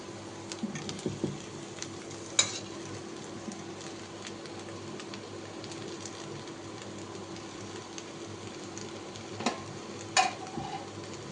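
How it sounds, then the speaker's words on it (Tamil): Chopped tomatoes go into a pan with onions for an egg gravy, giving a soft steady sizzle with occasional scraping clicks from stirring, fairly quiet and with no speech. "இப்போ கட் பண்ண தக்காளியை ஆட் பண்ணிக்கலாம்."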